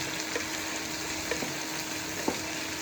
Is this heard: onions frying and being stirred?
yes